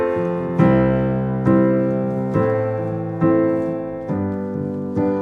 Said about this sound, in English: just an ordinary chord progression sounds like this.